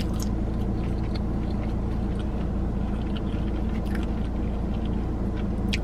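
Crunchy food chewed close to the mic, a steady run of crisp bites and crunching over a constant low background rumble, with no talk.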